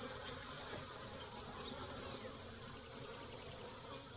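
Honey bees from a late-season caught swarm buzz faintly inside a box, a thin, steady insect hum with soft rustling, distant and low in level with no talking.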